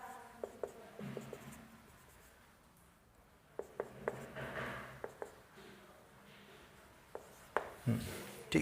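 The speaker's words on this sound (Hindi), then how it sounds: "तब तक हम एक और दूसरा क्वेश्चन भी लिख रहे हैं।" A question being written by hand on a surface during a math class, with faint scratching strokes and a scattering of sharp taps against quiet room tone.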